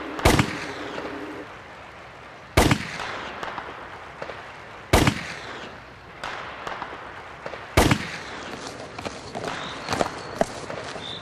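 Hunters' gunshots ring out in a forest, four loud sharp cracks spaced a couple of seconds apart, each with a trailing echo, among rustling and scattered smaller pops in between.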